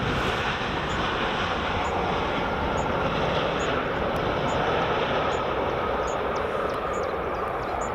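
Ryanair airliner landing at Edinburgh Airport in the early morning, heard as a steady, loud broadband jet roar that holds level throughout, with no talk over it.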